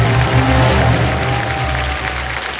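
Studio audience applause welcoming contestants on the KBC quiz show, a dense continuous wash of clapping over a low music bed, steady throughout.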